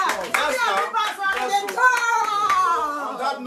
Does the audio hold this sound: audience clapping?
yes